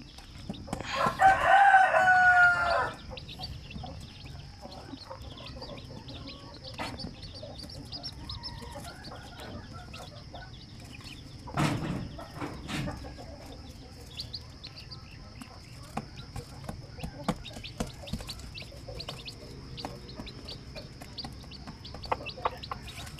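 Hens and chickens in a coop with brooding hens, a loud crowing-like call at the start followed by scattered soft clucks and chirps over a quiet background.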